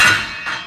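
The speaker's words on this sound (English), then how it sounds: "You're gonna want to use your rubber hammer" A rubber hammer knocks on the housing of a Filabot Reclaimer to free its screen, giving two dull, close thuds with a short ringing decay, the second softer than the first.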